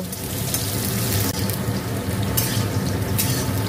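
Potatoes frying in hot oil for a paneer curry, a steady, busy sizzle and crackle with bubbling bursts, fairly loud and close, with a brief knock partway through.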